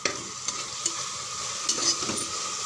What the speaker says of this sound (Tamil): தக்காளி நல்லா வதங்கியிருக்கு பாருங்கள்